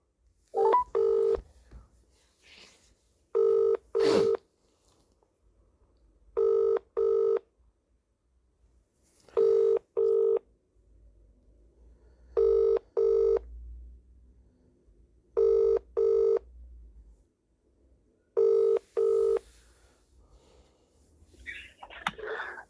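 Repeated bursts of touch-tone dialing beeps, seven short double clusters spaced evenly, placed on a phone call to a Bradford Council legal department solicitor, with faint line noise between them and no talking.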